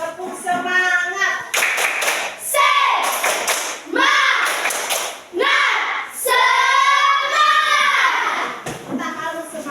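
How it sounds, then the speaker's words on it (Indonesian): Standing children in an elementary school classroom do a rhythmic spirit clap, loud, patterned bursts of hand claps mixed with their chanting voices, close and energetic throughout. "Tepuk semangat."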